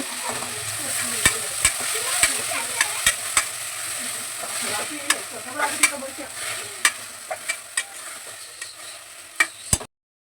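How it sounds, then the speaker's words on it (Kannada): Sprouted horse gram frying in a pan while being stirred, a soft continuous sizzle broken by repeated sharp clicks of a spoon against the pan, close and without talk. "ಕಾಳುಗಳನ್ನೆಲ್ಲ ಹಾಕ್ಕೊಂಡು ಅದನ್ನು ಸ್ವಲ್ಪ ಚೆನ್ನಾಗಿ ಹುರಿಬೇಕು ಕಾಳನ್ನ"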